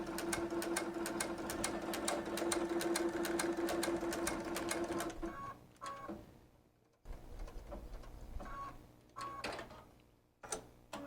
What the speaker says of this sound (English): When you have the needle in the correct starting point, stitch the seam ending on the edge of the fabric which has a fold.